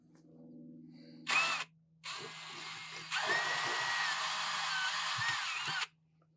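A power drill bores a pilot hole into a diesel tank while a diesel heater is being fitted in a Carthago Chic C-Line motorhome. A short whine is followed by two longer, loud, steady runs with a pause between them, close up.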